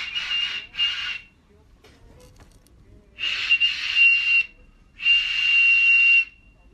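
A newly made zurna reed being tested, sounding shrill whistling tones in several bursts: two short blasts, then two longer sustained ones separated by brief pauses, close and fairly loud.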